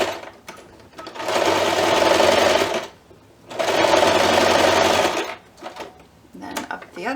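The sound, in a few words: sewing machine stitching a pumpkin pie bunting piece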